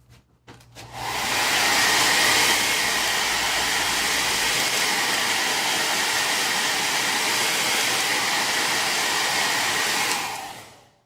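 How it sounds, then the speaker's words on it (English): Hair dryer blowing steadily to dry paint on a DIY cookbook or tablet stand, a loud continuous airy whoosh that starts abruptly and runs about nine seconds before cutting off, with no talking. "So I need to do a blow dryer"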